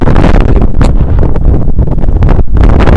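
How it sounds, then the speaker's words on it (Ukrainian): Strong wind roars across the microphone at a homemade frame hangar build site, a loud, constant buffeting rush filling the whole stretch with brief gusting surges and no talk. "Вітер страшний."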